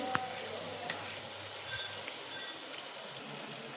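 Cumin seeds sizzle in hot oil in a wok with a faint, steady, rain-like crackle that has a few sharper pops. The sizzle is fairly quiet and close throughout.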